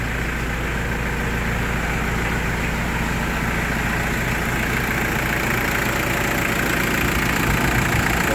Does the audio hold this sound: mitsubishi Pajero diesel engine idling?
yes